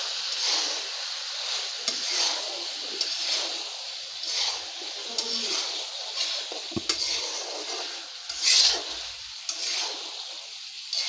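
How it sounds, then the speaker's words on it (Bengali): Fried cauliflower florets being stirred in a pan, with steady scraping and clinking of a utensil against the metal over a soft, continuous sizzle, close and moderately loud, no talking. "এবারে ফুলকপিগুলো দেওয়ার পর একটু ভালো করে নাড়াচাড়া করে নেব।"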